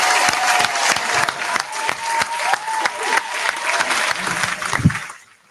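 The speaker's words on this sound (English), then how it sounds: "I'm clapping." A room full of people clapping loudly at the end of a live podcast recording, dense sustained applause with a few scattered cheers that cuts off abruptly near the end.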